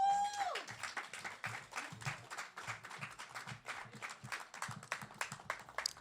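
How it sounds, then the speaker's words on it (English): Audience at a poetry open mic applauding, a thinning patter of separate claps after a brief tone at the start, fairly quiet and uneven as the clapping tapers off. "Another round of applause"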